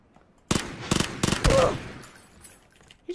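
Close-range shotgun blasts in PUBG, three sharp loud reports in quick succession followed by a heavier burst, then fading game ambience.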